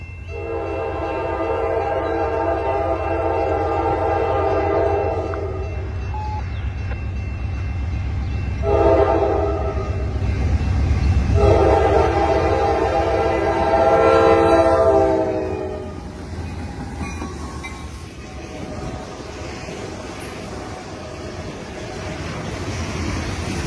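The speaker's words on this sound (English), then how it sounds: "It has 2707 with a really epic K5 LA Hearn, and behind that is a C44-9WL locomotive" A CN 450 freight train led by locomotive 2707, a C44-9WL, sounds its K5LA horn in several loud sustained chord blasts, with a short break between the first blasts, over a steady low rumble of the passing train.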